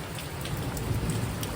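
Steady rain falls, a dense even patter on surfaces that stays constant and close.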